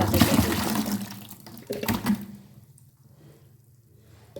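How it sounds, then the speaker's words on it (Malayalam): Water is poured onto five-day-old fermented vegetable and fruit waste, a loud splashing gush for about two seconds that then fades to a quiet trickle. "അതിൻ്റെ ഒരു നാലരട്ടി വെള്ളം നമുക്കിതിലേക്ക് അയക്കി കൊടുക്കാം"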